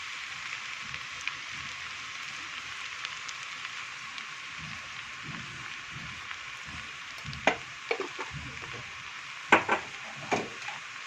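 Garlic and coriander fry in a pan for green molokhia with red sauce, a soft continuous sizzle with occasional louder crackles and stirring scrapes toward the end, close and fairly quiet.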